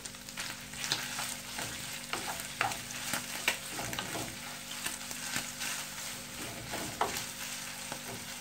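Chicken liver sizzling steadily in a pan as garlic is added, with a constant fry hiss and repeated stirring scrapes, moderately quiet and close.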